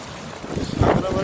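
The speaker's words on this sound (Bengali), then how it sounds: "এত জোরে হাওয়া মারতেছে" Strong stormy wind roars and buffets the microphone outdoors during a storm, swelling louder toward the end of a brief, loud burst of rushing air.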